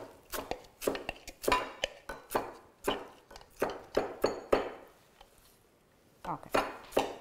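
Hand chopping of food with a knife on a cutting board while preparing lima beans, yucca and salad: a rapid series of sharp, close knocks in uneven bursts, with a short pause near the end before more chops resume.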